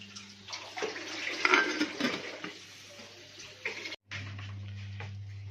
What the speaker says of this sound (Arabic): هنحط ميه بتغلي الاول اهي.